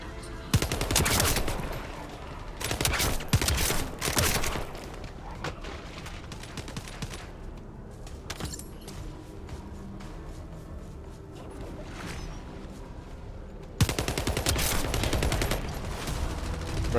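Turrets firing in a video game, rapid bursts of automatic gunfire in several loud clusters separated by quieter stretches of game ambience and scattered mechanical clicks.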